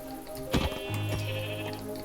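A sheep in the Minecraft video game gives a single wavering bleat, close and clear over a quiet background.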